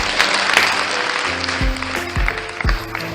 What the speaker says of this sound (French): applaudissements, elle mérite ça